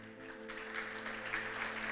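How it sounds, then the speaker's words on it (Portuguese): Church congregation applauding the Lord during a sermon, a soft spread of many hands clapping that swells slightly partway in, heard over a sustained low musical drone. "Você pode aplaudir ao Senhor, querido?"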